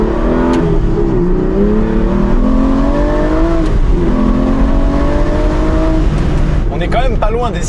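Aston Martin V12 Vantage S with its V12 engine revving loud and close, sweeping rising and falling tones throughout, with someone talking over it and a sharper rev burst near the end.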